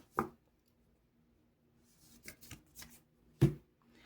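Tarot cards being shuffled and drawn on a table, a few short close riffling and snapping bursts spread across quiet gaps.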